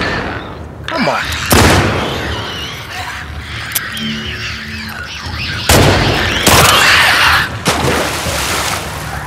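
Gunshots ring out in The Last of Us Part II as Fedra soldiers are fought in a garage: loud broadband cracks and booms in bursts, with game ambience between them.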